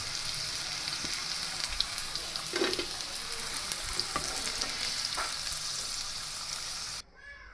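Battered chili rings, Gujarati bhajiya, bubble in hot oil with a loud continuous sizzle and occasional stirring clinks, then the frying cuts off abruptly just before the end.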